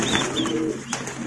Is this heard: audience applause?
no